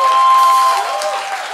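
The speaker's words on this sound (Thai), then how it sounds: "ขอเสียงปรบมือหน่อยล่วงหน้า" A crowd at a rock concert applauds loudly and steadily, the clapping fading slightly toward the end, with a faint tone running underneath.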